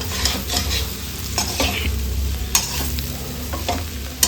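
Chilli pork with kachampuli, Coorg style, is stirred in a hot pan: a loud, steady sizzle of frying with repeated scraping strokes of the spoon against the pan, and no voices.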